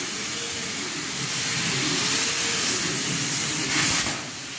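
A RIG48 CNC plasma cutter starts its run, letting out a loud, steady rushing hiss that holds for several seconds before dropping off near the end.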